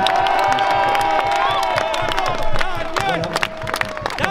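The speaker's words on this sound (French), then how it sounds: "je vous demande un tonnerre d'applaudissements à Daniel Obono qui est à mes côtés" A crowd at a citizens' rally outside Stains town hall claps, cheers and whoops loudly and continuously, with many voices shouting over the applause.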